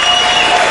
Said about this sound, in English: a round of applause, please, for Gunther Singer